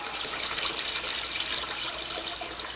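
Oil draining out of a commercial fryer after filtering, valve open, a steady continuous liquid rush and gurgle, fairly close and even throughout.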